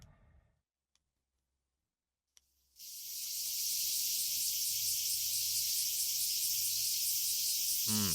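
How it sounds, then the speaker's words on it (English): Cicadas start up after near silence and swell into a loud, steady, shrill droning chorus that fills the remaining seconds without pause. "Listen to those cicadas."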